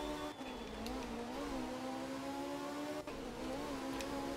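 Engine of a Group 4 rally car in the video game art of rally, revving steadily in a sustained drone with slight pitch rises, fairly faint, with no voices.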